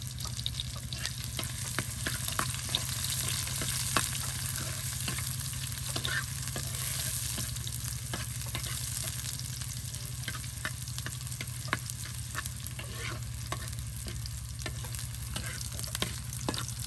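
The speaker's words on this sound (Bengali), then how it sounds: "এই যে আপনার রসুন কুচি, পেঁয়াজ কুচি সব কিছু দিয়ে কিন্তু বাগার দেওয়া হবে।" Chopped garlic and onion sizzle steadily in hot oil to temper boiled mixed greens, with frequent stirring clicks and scrapes over a constant frying hiss, fairly close and continuous.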